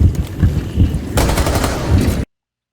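Gunfire sound effect: rapid bursts of shots in quick succession, growing denser and sharper partway through, then cutting off abruptly into silence.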